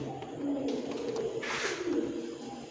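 Pigeons of high-flyer breeds kept for sale cooing nearby, a few soft rolling coos at moderate volume with a brief flutter or rustle in the middle, no speech.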